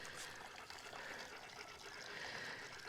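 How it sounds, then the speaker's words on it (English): Water squirting and trickling out around the edge of a pressurized lid on a temporary livestock water setup, a soft continuous hissing spray heard alone and faintly. "So there's more water squirting out around the lid,"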